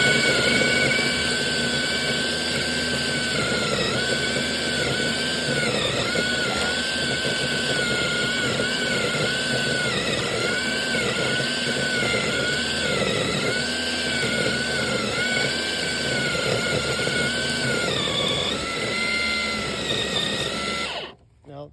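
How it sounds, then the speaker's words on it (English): A string trimmer head spins while clearing clogged weeds, a loud, steady high-pitched motor whine that dips and recovers briefly under load before cutting off at the end, with someone talking over it. "the head of the trimmer is picking up a lot of material, but just keep it spinning and it will burn itself out"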